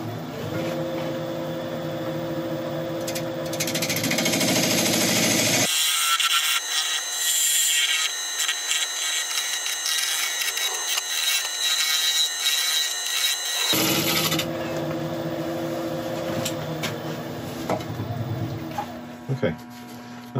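A wood lathe turns a burl bowl while a bowl gouge shapes a tenon on its foot, making continuous close scraping and cutting noise over a motor hum, with a quieter stretch in the middle.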